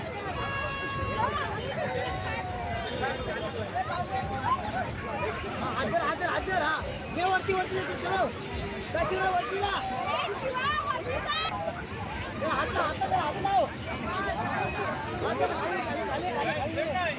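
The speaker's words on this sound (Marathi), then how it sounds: "इथे खूप गर्दी आहे" Dense crowd chatter at a busy village fair, a steady babble of many voices near and far with footsteps and bustle throughout, no single voice standing out.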